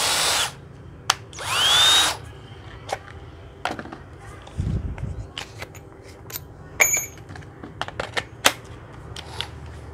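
A used Japanese cordless battery drill being test-run, with a brief whir at the start and a rising two-second spin-up, followed by scattered clicks, handling knocks and a low thump, close and fairly loud.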